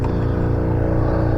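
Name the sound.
small air compressor running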